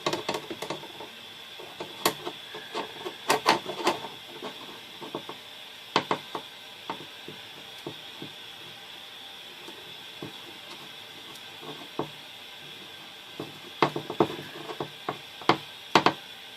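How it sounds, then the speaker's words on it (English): A worn tubing cutter turns around 3/16 steel brake line tubing, giving irregular bursts of small metallic ratcheting clicks and ticks close up, with quiet gaps between turns. "I'm not sure how good my blade is with this tubing cutter anymore."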